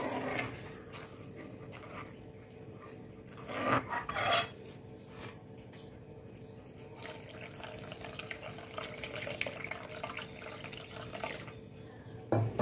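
Grape sweet mixture is stirred and strained in a pan, giving scraping and clinking metal utensil sounds with splashy, watery movement, moderately close and fairly quiet, with louder knocks near the middle and the end.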